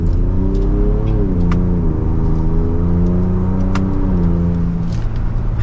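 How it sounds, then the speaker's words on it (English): A 2024 Ford Ranger Raptor in sport mode accelerating hard from inside, its engine droning loud and steady with rising pitch and a brief dip at a gear change, no talk. "Nice mild acceleration, we're up to speed."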